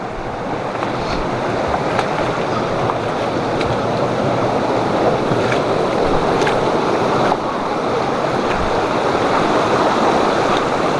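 A river in a village in South Aceh rushes steadily and loudly, a dense, unbroken wash of flowing water with some wind buffeting, heard alone without talk.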